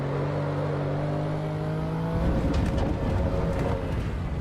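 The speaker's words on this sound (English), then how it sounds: "We're driving the Audi RS6." Audi RS6 engine in a racing game holds a steady, harmonic drone that shifts at about two seconds into a rougher, louder roar with clicks and gear-change bursts, continuous and close.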